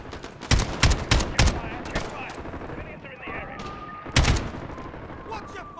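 Bursts of automatic gunfire and explosive rocket blasts from a Call of Duty: Modern Warfare battle in Piccadilly. The loud volleys come in clusters, then die back to a rumbling lull before another heavy burst near the end.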